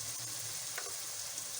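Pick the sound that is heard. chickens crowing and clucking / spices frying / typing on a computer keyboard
spices frying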